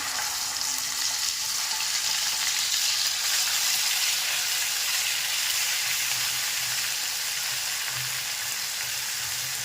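Spice paste hitting hot oil in a wok, after cumin and mustard seeds have spluttered, for a spicy Vidarbha-style curry; a loud, steady, continuous sizzle holds for about ten seconds with no one speaking.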